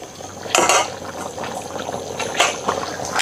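Snail curry in a pot cooking down, with soft bubbling and a few sharp clinks of a utensil against the pot, moderately close, no voices.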